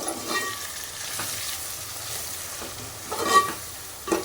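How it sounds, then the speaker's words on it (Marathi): Masala spices fry in hot oil for restaurant-style chicken dum biryani, making a constant close sizzle with intermittent scraping stirs and a louder stir near the end, and no voices. "म्हणजे गरम तेलामध्येच होऊ द्यायचं हे सगळं"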